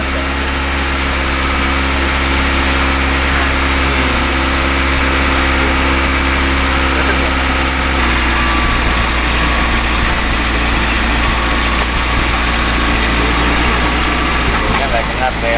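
A car engine idling steadily after an engine flush treatment, a loud continuous low rumble that shifts slightly in tone partway through, with no one talking.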